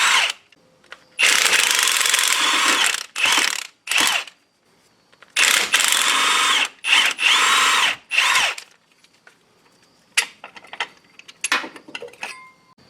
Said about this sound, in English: I just zipped it out with the gun and it came out.